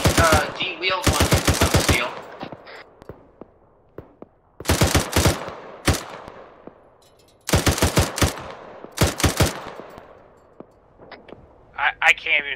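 Bursts of automatic machine gun fire in the military shooter Arma 3, with several rapid volleys spaced by short pauses, loud and close, and a few scattered single shots in between.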